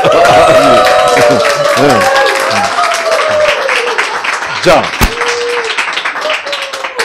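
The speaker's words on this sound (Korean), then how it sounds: "일단 박수 치면서 우 하고 쓰세요" Audience clapping hands along during a health lecture, a rhythmic crowd applause under a loud voice talking over it, fading toward the end.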